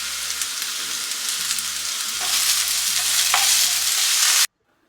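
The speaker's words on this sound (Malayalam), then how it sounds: "നമുക്ക് സവാള ഇട്ട് നല്ലപോലെ ഒന്ന് വഴറ്റി വെക്കാം." Chopped onions sauté in a hot pan for a Kerala-style side dish, a loud, steady sizzle with stirring scrapes that stops abruptly near the end.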